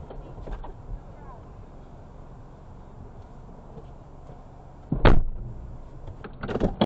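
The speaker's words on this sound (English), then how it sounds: "Why are you slamming my door?" A car door slams shut with one loud, sharp bang about five seconds in, preceded by quieter handling knocks and followed by a few more thuds and rattles inside the vehicle.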